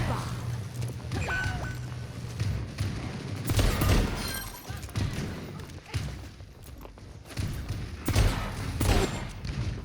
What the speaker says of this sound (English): I also like shooting the wall.